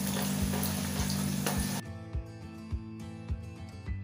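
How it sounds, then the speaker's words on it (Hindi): Onion and green chillies sizzle in hot oil, a dense steady frying hiss that drops to a softer crackle partway through, close and continuous with no talking. "तो तेल के गरम होते ही मैं पहले दो मिर्ची डाल लूंगी, और अभी मैं इसमें ऑनियन ऐड कर रही हूँ"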